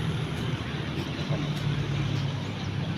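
Traffic at a busy 7-8 road junction, a continuous, fairly close wash of engine rumble and road noise with passing vehicles swelling slightly, and no clear talking.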